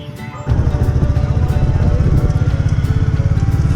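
A Royal Enfield Classic motorcycle engine kicks in loudly and settles into a steady, rapid low thumping beat while ridden, close and continuous, with the engine running hot.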